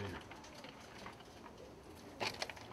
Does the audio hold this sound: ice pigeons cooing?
yes